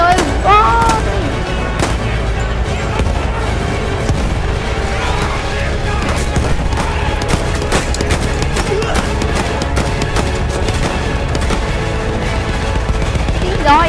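Bombs and artillery explosions in the Battlefield 1 tank campaign keep up a loud, dense barrage of booms and gunfire throughout, with overlapping blasts and rattling shots and occasional voices underneath.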